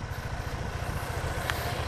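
A motorcycle engine hums steadily nearby, a low continuous drone with a brief higher tone near the end.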